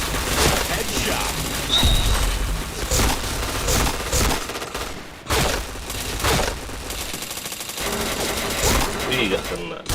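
Rapid automatic gunfire and single shots from the online shooter game Point Blank, dense and continuous with brief gaps, with voice announcements and players talking over it.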